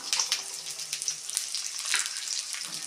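Ginger, shallots and garlic sauté in a pan for a chicken curry, producing a soft, steady hiss and crackle close by, with faint utensil sounds and no talk.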